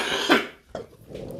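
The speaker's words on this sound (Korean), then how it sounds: "아우, 이렇게 기침이 나." Two or three short, close coughs in quick succession, the first loudest, with a faint rasp after each.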